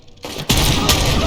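Heavy gunfire erupts in RoboCop: Rogue City, a sudden loud burst of sustained rapid automatic shots after a brief quieter lead-in, dense and continuous to the end.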